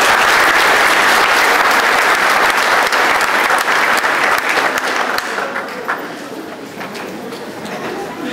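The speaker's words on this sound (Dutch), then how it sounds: "wilt u alstublieft een applaus geven voor deze kanjes die het aandurven?" Loud, dense audience applause fills a church hall after a praise band performance, a sustained roar of clapping that thins and fades toward the end.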